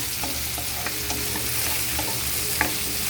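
Pork sizzling and frying in a pan, with a steady loud crackle and a few stirring clicks, close up and without talk.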